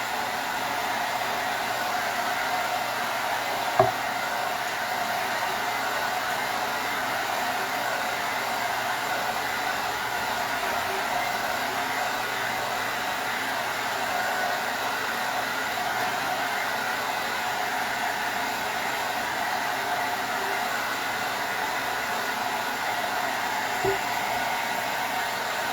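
A hair dryer blows steadily and loudly without a break while drying a Ball canning jar arrangement, with a faint click or two and no voices.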